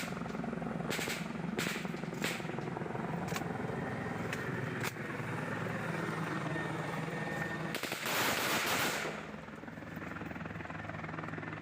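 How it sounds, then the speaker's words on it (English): Gunfire aimed at a Bell 412 helicopter, a few sharp cracks and bursts cutting through the steady thrum of rotor and engine noise, with a harsher burst near the end. "shows the TPN shooting at what appears to be a Bell 412 helicopter"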